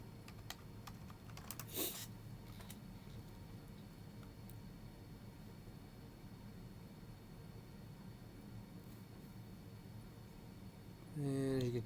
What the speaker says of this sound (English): You type the password, right?